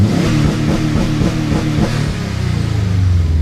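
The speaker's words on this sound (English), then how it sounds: "Hope you don't mind my loud car in the morning." A loud Subaru WRX engine revs on a morning street, a deep, continuous rumble that swells steadily and rises in pitch toward the end, close and with no talking.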